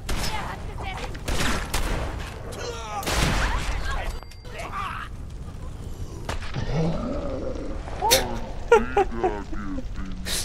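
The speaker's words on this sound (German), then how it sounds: "Da kommt ein einziger Schuss von der Seite und ich bin tot." Bursts of Fallout 4 gunfire, a rapid volley and scattered single shots, mixed with growls and game effects, with a voice talking over parts of it.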